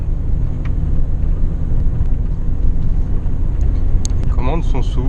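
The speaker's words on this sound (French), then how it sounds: "le son du moteur, tant qu'on tape pas dedans, ça pourrait être n'importe quel C2" A Citroën C2 VTS engine hums low and smooth while driving, with a constant rumble and road noise and a voice talking over it near the end.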